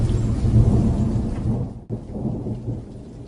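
A deep rumble of thunder rolls over steady rain, briefly cutting out before the downpour resumes at a slightly softer level.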